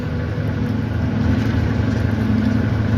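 A Ford Mustang Foxbody 5.0 rumbles nearby, its low, steady engine note holding loud and constant throughout with a slight swell, no voices.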